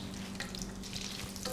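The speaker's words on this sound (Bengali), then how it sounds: "কাঁচামরিচ ভাজা হয়ে গেছে।" Green chilies with snapped-off tips frying in hot oil tempered with whole garam masala for shahi chicken polao, a steady close sizzle with faint stirring clicks and no talk.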